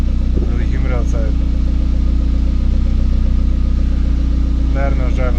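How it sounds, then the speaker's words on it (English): A car engine idles steadily after a warm cold start on a humid day, a constant low hum running throughout, with a few faint brief sounds on top. "That right there is kind of a warm cold start."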